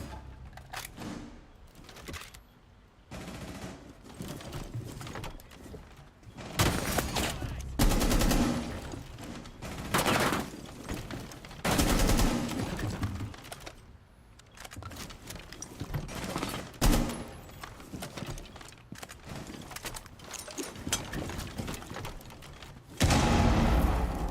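Video game gunfire during a competitive bomb-defusal match, with bursts of rapid shots and single cracks scattered through the round, heard fairly close and mixed with other game sounds.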